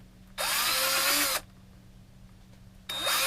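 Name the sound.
power drill drilling out foam for cosplay hockey gear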